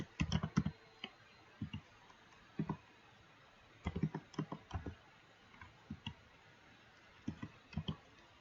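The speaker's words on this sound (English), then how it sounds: "Let's just type" Computer keyboard typing while a database record is entered, with short irregular clusters of close, crisp key clicks separated by brief pauses and no voices.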